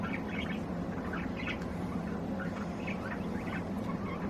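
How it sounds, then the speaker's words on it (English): A baby budgie gives repeated soft chirps and squawks while preening its mother, the calls close and fairly quiet over a steady low background hum, with no talking. "That is one happy baby Budgie and one happy mother"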